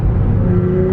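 A BMW E92 328i pulls hard in third gear, its engine drone loud and close with a steady, slightly rising tone over one continuous second.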